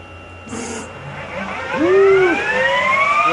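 A Chevalier FCL-1840 CNC lathe starts a program in auto mode, a short clunk giving way to a rising whine as the spindle spins up, close and fairly loud, with no talking.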